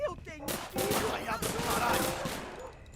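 Rapid gunfire crackles in a GTA-style crime video game, a dense sustained burst of overlapping shots that fades slightly toward the end, loud and close.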